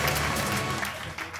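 Audience at a fashion show and pageant event applauds to welcome someone, a dense, loud wash of clapping that stays steady through the moment.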